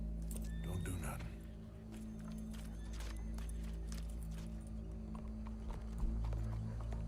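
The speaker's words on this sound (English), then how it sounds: "Go brush that horse" Horse hooves clip-clop at a steady walking pace before a show crowd, moderately close, over a constant low hum and mixed with talking voices throughout.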